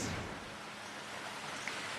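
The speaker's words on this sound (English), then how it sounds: "it's raining very significantly where we are now" Heavy rain falls steadily near the Logan River in Brisbane, a soft continuous hiss of downpour heard at a moderate distance, with no voices.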